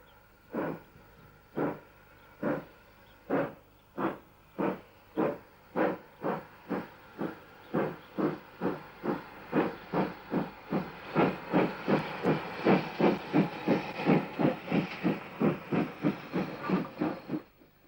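A small South Eastern and Chatham Railway P class steam tank engine, built for branch line work, puffs in sharp, regular exhaust beats that speed up and grow louder and hissier as it gets under way. No other sounds intrude.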